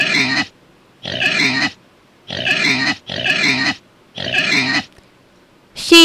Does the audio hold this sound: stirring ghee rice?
no